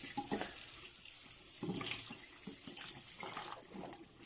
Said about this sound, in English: First, you should wash the potatoes.